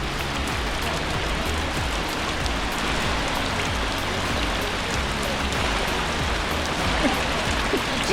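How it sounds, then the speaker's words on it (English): Heavy rain pours onto the water of an outdoor hot spring pool near gorges and waterfalls, a steady, dense pattering that stays loud and unbroken throughout, with no talking. "It's really coming down out here."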